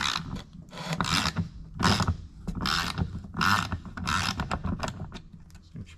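A Craftsman V Series 3/8-inch 96-tooth long-handle flex ratchet clicks in several quick bursts of fine, close, crisp ratcheting, each burst separated by short pauses, with no voices.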